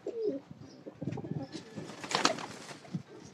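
Shiny-tailed domestic pigeons coo softly and close by, with a few low murmuring calls and faint rustles and chirps in a quiet setting.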